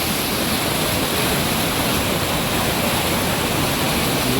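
Durga waterfall near Karkala rushes forcefully in a loud, constant roar of falling water, a steady broadband wash with no break and no voices.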